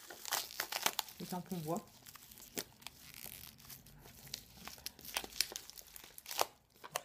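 A cardboard box of wooden stamps being opened, with close crinkling, tearing and rustling of packaging in short bursts while a person talks quietly in between.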